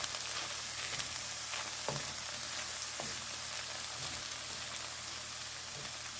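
Vegetables frying lightly in oil with a little ginger, a steady soft sizzle running evenly throughout with occasional small pops and faint stirring clicks.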